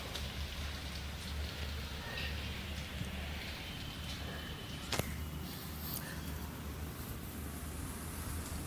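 Light summer drizzle falls steadily in Pune under cloud cover, a soft, even hiss of rain with faint patter and one brief sharp knock near the middle.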